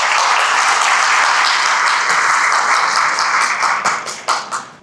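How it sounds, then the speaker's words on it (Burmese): Sustained applause from an audience at a business motivational talk, dense and loud clapping that thins into scattered individual claps toward the end. "သဘောကျရင်လက်ခုပ်ပြီးတော့ပါ"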